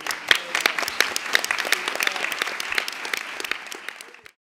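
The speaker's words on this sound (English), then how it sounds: "Right, round of applause for everybody." An audience claps warmly for a television soap cast after an event, with dense, lively applause that carries on for several seconds before fading out.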